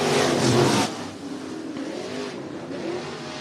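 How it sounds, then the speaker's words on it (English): Dirt-track race cars roaring as they accelerate from the green flag in a heat race at Cottage Grove Speedway in Oregon, a loud surging engine burst that settles into a steady droning pack of motors. "Green is out. We are racing in heat race number 2."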